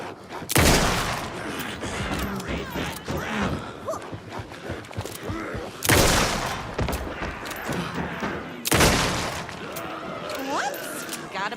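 Gunshots in the video game Alan Wake II, three loud, widely spaced blasts with dense game sound and voices in between.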